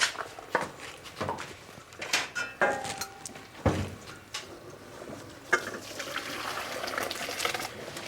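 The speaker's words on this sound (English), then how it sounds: "Get rid of all the water." Cooked pasta being drained in a kitchen sink, with water splashing and gurgling into the basin in uneven bursts alongside clanks of the pot and colander, fairly close and moderately loud, without talk.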